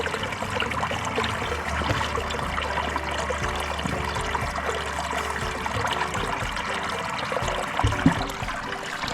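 A steady stream of water pours into a holding tank, a continuous rushing trickle with no breaks, close and moderately loud.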